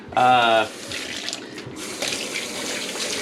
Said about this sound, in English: I'm gonna go wash this really quick